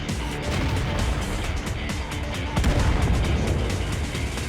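Artillery shell striking a tank in World of Tanks, a dense continuous roar of blasts and rumble with a heavier impact surge midway, loud and close throughout.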